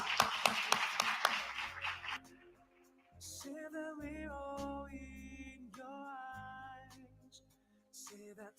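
An audience claps at a ceremony announcing Trendyol as name sponsor of Turkey's Süper Lig and 1. Lig. The burst of applause lasts about two seconds, then gives way to quieter tonal sounds.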